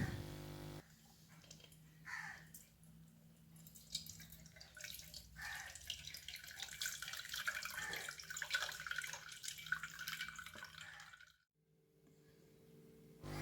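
Blended beetroot pulp strained and squeezed by hand to press out juice for a wheat halwa, giving a steady wet trickle and splashing of liquid into a vessel that runs for about ten seconds, then briefly stops.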